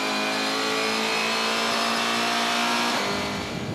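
Race cars at the GTC round in East London roaring around the circuit, a dense, loud blend of engines holding high revs with a slight drop toward the end.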